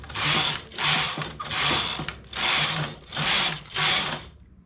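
A knitting machine knitting newborn baby pants with feet, its carriage swept back and forth in six even rhythmic passes, each a loud whooshing mechanical rattle, close and without talk.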